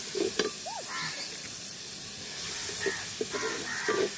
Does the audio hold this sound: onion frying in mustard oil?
yes